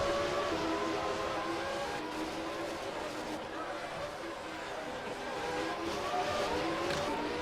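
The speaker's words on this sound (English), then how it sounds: "Checker flag is out, we're just waiting for all the cars to come through to finish their laps." Race cars on a circuit complete their final laps under the checkered flag during a 2015 United States practice session, giving a steady, distant engine roar that swells and fades slightly throughout.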